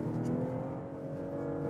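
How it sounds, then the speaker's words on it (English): A BMW 6-Series Gran Turismo's six-cylinder engine in sport mode, manual, second gear: a steady, full-bodied engine drone heard from the cabin, holding constant under acceleration with no voices. "And the engine sounds really great. 6 cylinders."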